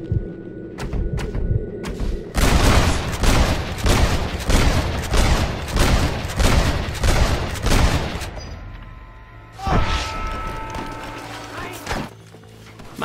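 Gunfire from Red Dead Redemption, a Western game with slow-motion bullet-time shooting, comes as a loud run of rapid, evenly spaced shots with heavy thumps, then pauses and one more burst, over background music.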